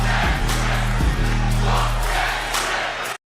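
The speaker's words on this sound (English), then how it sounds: "listen to this crowd" A packed arena crowd at a WWE Raw wrestling show roars continuously for Trick Williams, a loud, sustained wash of cheering with rhythmic chanting pulses and a few deep thumps, cutting off abruptly at the end.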